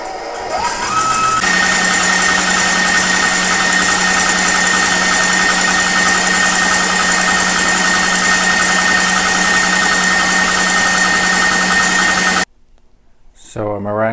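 Electric mixer whipping egg whites and sugar into stiff-peak meringue for a Baked Alaska, a loud steady motor whine with a constant hum that runs for about twelve seconds, then cuts off abruptly before a brief bit of talk.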